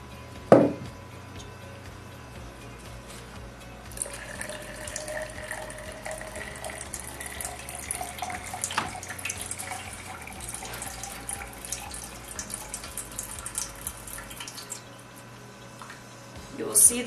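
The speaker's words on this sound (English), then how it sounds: "So we'll fill up our cup with water and then gently let the water into the cylinder." Water from a plastic cup is gently poured into a cylinder sitting in a sink during an at-home falling head hydraulic conductivity test, giving a steady close trickle and splash that runs for most of the stretch, with a sharp knock near the start.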